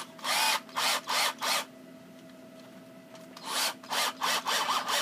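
A Firestorm 18-volt cordless drill, running off a 12-volt battery, drives screws into wood in two bursts of four or five quick whirring pulses each, separated by a quiet pause. The sound is close and loud.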